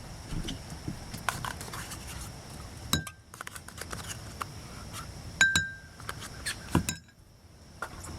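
A spoon clinks repeatedly against a glass bowl while hoisin, soy and oyster sauce are stirred together for Beijing beef, a series of sharp, close, irregular taps with brief pauses between them.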